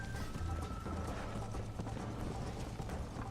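A horse gallops during a horse race in the video game Red Dead Redemption. Rapid hoofbeats drum steadily and continuously, mid-loud, with a faint tonal note near the start.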